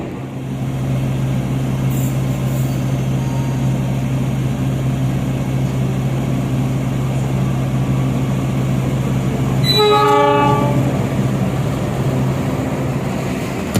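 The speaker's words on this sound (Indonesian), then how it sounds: "kereta api Argo Bromo Anggrek sudah tiba" The Argo Bromo Anggrek passenger train rolls into the station with a loud, steady rumble, and a short horn-like tone sounds near the end.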